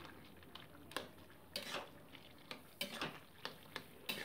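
A spatula mashes boiled bottle gourd and potato in a metal pot, giving a series of irregular scraping knocks and clinks, close and quiet, with no talk.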